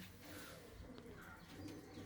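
Many high-class pigeons coo together at a loft near Mukerian city in Punjab, a steady low murmur running the whole time under a busy, noisy background with no talking.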